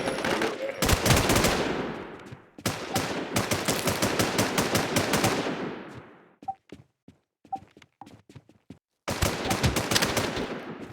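Rapid automatic gunfire from the Warz DeadDayz video game, long bursts of loud close shots broken by a brief lull with a few scattered single shots before another sustained burst.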